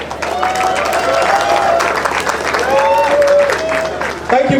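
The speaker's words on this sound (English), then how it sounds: "could you help me thank your dean by clapping for her?" An audience at an engineering graduate induction ceremony applauds in a sustained round of clapping to thank the dean, while a voice carries on over it.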